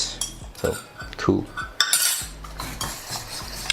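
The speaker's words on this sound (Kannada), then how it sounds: "ಸೊ ಚೀಸ್ನ ಆ್ಯಡ್ ಮಾಡಿ I am just mixing it ನಾವ್" A spoon stirs high-protein dosa batter mixed with cheese in a bowl, close up, with irregular scraping strokes and metallic clinks against the bowl's sides. No one speaks.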